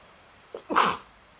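A woman sneezes once, close and sharp, with a short intake of breath just before the burst.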